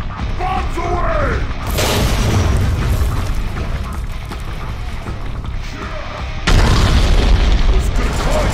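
Bombs explode in the Deadpool video game as two heavy booms, each a sudden loud blast with a long rumbling tail, separated by several seconds of dense, noisy game sound.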